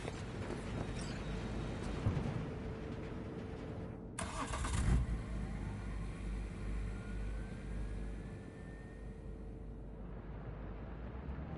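A car engine starts up inside the Cyberpunk 2077 video game, a steady mid-pitched rumble that holds through the clip, with a short burst near the middle and a faint rising whine after it.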